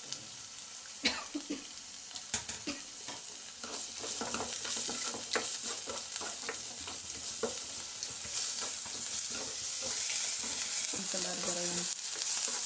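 Onions and green chillies fry in hot oil with curry leaves, a steady close sizzle broken by scraping stirs, growing louder and denser partway through, with light clinks of a utensil against the pan.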